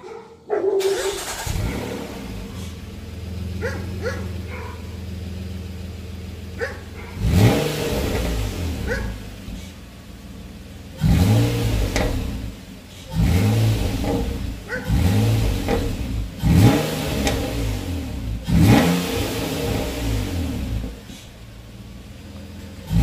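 A car exhaust with its catalytic converter still in place revs repeatedly, about five sharp throttle blips rising and falling after an idle start, loud and close, with a dog barking faintly in the background.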